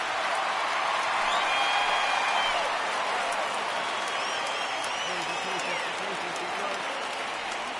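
A stadium crowd in the baseball video game MLB The Show 19 rises and cheers for a full count, a steady, broad roar with whistles running throughout while a commentator talks over it.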